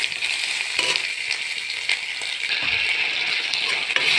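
Ginger-garlic paste fries with onions in oil over lowered heat while a pea ghugni curry is cooked. A dense, even sizzle continues close by, with soft scraping from stirring.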